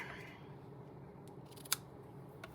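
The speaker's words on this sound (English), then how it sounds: "Snip it. Hopefully scissors will be all right." Scissors snip card for a handmade greeting card: a faint cutting hiss, then one crisp, sharp snip near the end and a lighter click after it, close up in a quiet room.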